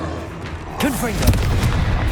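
A Confringo explosive spell goes off in Hogwarts Legacy as a single booming blast with a short whooshing streak and crackling tail, loud against busy game background noise.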